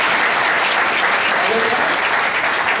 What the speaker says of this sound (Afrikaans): Dames en here, 'n warm hande klap vir Gerard.